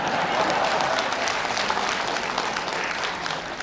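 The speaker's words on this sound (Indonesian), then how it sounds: "Ya, tepuk tanganlah dulu, silakan." Crowd applause at an outdoor religious gathering in a mosque courtyard, dense steady clapping throughout, loud and close with no pauses.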